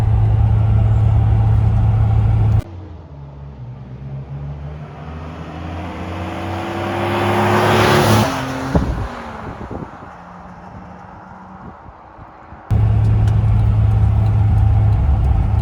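A 1985 Bitter SC's inline-six engine drones steadily at mid pitch, then rises in pitch as the car accelerates before easing off, with loud road rumble at the start and end.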